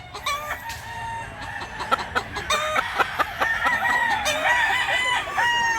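Chickens and roosters at a farm in Mantalungon, Barili, with several birds crowing in overlapping calls and clucking close by, steady and fairly loud throughout, with no talking.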